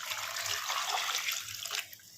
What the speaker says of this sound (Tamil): சேர்த்துட்டு நல்லா வந்து ஒரு 2 சொம்பு அளவுக்கு தண்ணி விட்டுக்கலாம்.